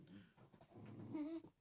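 A dog whimpers softly nearby in a short, high, whining cry that rises and wavers for about a second, faint and alone without any talk.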